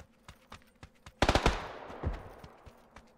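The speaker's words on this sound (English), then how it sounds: "They're shooting at me." Video game gunfire: scattered single shots, then a loud rapid burst of automatic fire with a trailing echo and a few more shots afterward.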